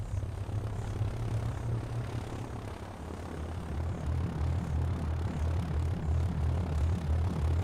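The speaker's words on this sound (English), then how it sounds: "At first light, the spotter plane sets out again." A propeller spotter plane drones overhead at first light, a steady low engine hum with a pitch shift partway through as it passes, moderately distant and sustained.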